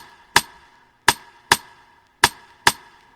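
A programmed dancehall pattern in FL Studio repeats a metallic perc sample stacked with a rim shot. Five crisp, woody-metallic knocks fall in an uneven syncopated rhythm, short and dry, heard alone up close.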